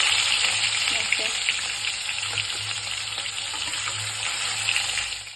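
Fish frying in oil for an Assamese fish curry gives a strong, continuous sizzle with a close, crackling hiss, steady throughout and tapering off at the very end.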